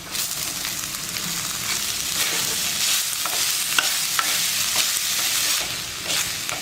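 Boiled banana stem sautéing with salt and spices in a pan, a steady close hiss of frying broken by the occasional scrape and stir of a spoon, with no talk.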